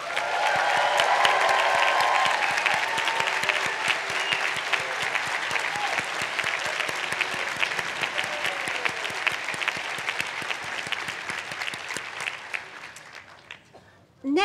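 Sustained applause from a commencement audience at Reed College honoring the college staff, dense and steady clapping with some cheering that holds for most of the stretch, then thins and fades near the end.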